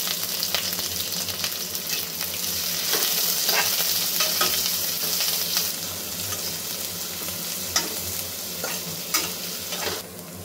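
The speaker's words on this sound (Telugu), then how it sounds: "సో నెక్స్ట్ కొంచెం కరివేపాకు, గ్రీన్ చిల్లీస్, ఆనియన్స్." Curry leaves, green chillies and onions frying in hot oil, a dense close sizzle with repeated stirring scrapes, steady throughout with no voices.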